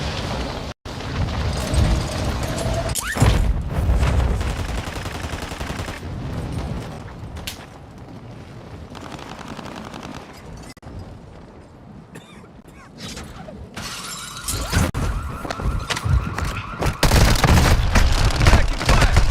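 Video game gunfire, sharp bursts of shots and rapid automatic fire amid mechanical clatter and booms, loud and dense at the start and end with a quieter stretch between.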